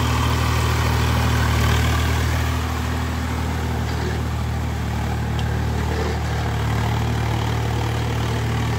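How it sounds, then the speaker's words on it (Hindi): A Swaraj 855 FE tractor engine idles in a field with a steady, continuous low rumble, close and unbroken, with no talk. "स्वराज का सबसे बढ़िया ट्रैक्टर है"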